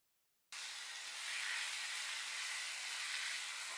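Fish oil going into a hot pan of red amaranth greens (lal shak) over low gas: a sudden sizzling hiss starts and holds steady and loud, swelling slightly, with no one speaking.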